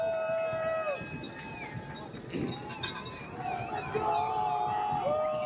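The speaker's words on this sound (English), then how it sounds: "Irish crowd getting loud" Crowd noise rising at a high school football game between NDP and Frankenmuth, a broad roar of cheering fans in the stands with a commentator talking over it and faint whistle-like tones on top.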